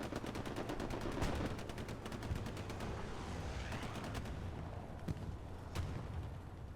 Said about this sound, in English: Strafe coming in.